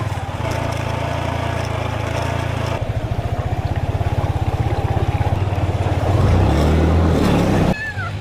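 A boat's motor runs steadily and close by, a continuous low throbbing drone with a faint engine whine over it, staying loud and unbroken throughout with no talk.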